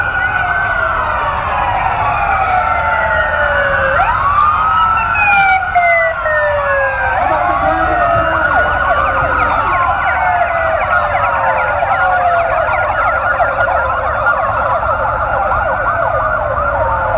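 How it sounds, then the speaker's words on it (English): A loud police car siren wails continuously at a parade, sweeping up and down in overlapping tones, close by and steady throughout. "Here comes the police. How come whenever there's a siren, Kristen Herrick Derrick gets so nervous?"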